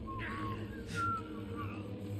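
A character in the video game Dead Rising 2: Off The Record whistles a tune, thin and fairly quiet with short melodic phrases over a low game-music bed.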